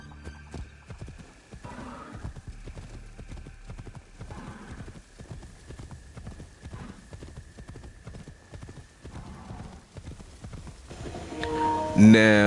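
Horse hooves clip-clop in a steady, close rhythm in Assassin's Creed Shadows, with an occasional whinny and game music underneath, and everything swells louder near the end.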